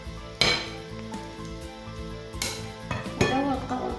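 Utensils scraping and clinking against a pan while food is mixed for a gratin, with a few sharper knocks standing out over steady background hum.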